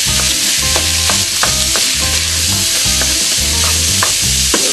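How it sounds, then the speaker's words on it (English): Ground beef sizzling loudly in a pan for keema aloo while it is stirred, the constant frying hiss broken by regular scraping strokes, close and with no talking. "So we're going to add our beef."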